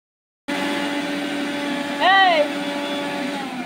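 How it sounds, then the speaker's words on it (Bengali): Mixer grinder blending a fish spice paste of ginger, chilli and cumin: a steady, loud whirring motor hum that runs throughout, with a brief rising pitch sweep in the middle. "কি করছে মিক্সচারে?"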